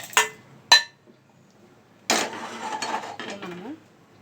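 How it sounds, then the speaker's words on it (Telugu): Fried bitter gourd for masala kakarakaya is scraped from a pan into a blender jar: two sharp metallic clinks, a pause, then a longer run of scraping and clattering. "నేను డైరెక్ట్గా జార్లోకి తీసేసుకుంటున్నాను"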